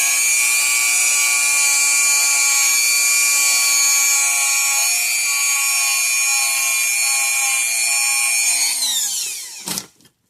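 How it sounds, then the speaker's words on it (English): A Dremel rotary tool, used while repairing a Parmak Super Energizer fence charger, whines at a steady high pitch for about nine seconds, then spins down and stops with a brief clunk. Loud and close, with no talking. "let's get the Dremel tool out here."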